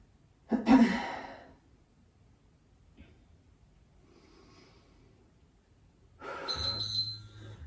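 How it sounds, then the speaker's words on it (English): Two loud, breathy exhales during a yoga HIIT workout, one short near the start and a longer one near the end, separated by near silence. "Nice noisy exhales and rest."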